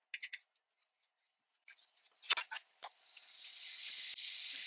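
Bacon strips dropped into a pan on high heat, with a few clicks and clatters followed by a rising sizzle that turns into a steady hiss.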